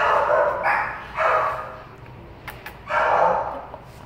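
A dog gives three loud, close barks spaced apart, with a short whimpering sound between them.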